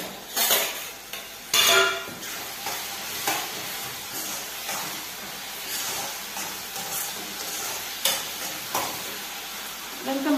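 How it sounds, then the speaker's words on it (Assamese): Eel fish curry being stirred in a pan, with a spoon scraping and knocking against the metal over a steady sizzle and short louder clatters throughout. "এইখিনি এতিয়া অকণমান লৰাই লওঁ"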